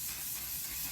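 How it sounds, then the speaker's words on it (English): A One Size On Till Dawn makeup setting spray is sprayed in one continuous, close, loud aerosol hiss that fills the whole short burst without a break, no voices. "now we're going in with the One Size On Till Dawn because one setting spray is not enough"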